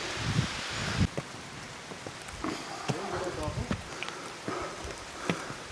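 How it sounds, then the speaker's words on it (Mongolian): Heavy rain pours down during a thunder and lightning storm outdoors in Mongolia, a steady hissing wash dotted with close drop impacts, with brief voices in between. "ширүүн бороо ороод эхэлчихлээ шүү"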